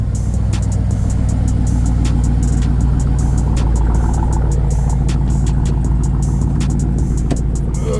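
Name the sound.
Dodge Durango engine warm start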